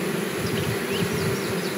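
Honeybees fan their wings at the entrance of a nucleus hive, making a steady, dense buzzing hum that carries on unbroken and close by, with no talk.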